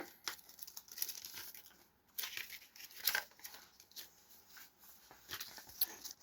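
Paper wrapping from a 2001 Burger King Lord of the Rings: The Fellowship of the Ring collectible toy crinkles and tears in close, irregular bursts of rustling with short pauses between handlings.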